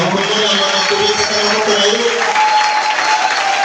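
A church congregation applauding and cheering during a worship service, with dense, loud, continuous clapping from a large crowd and voices mixed in.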